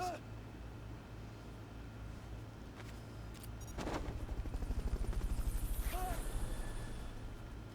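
A helicopter in the video game Metal Gear Solid Peace Walker swells in partway through as a loud rhythmic rotor thump, with gunfire-like bursts and game effects around it.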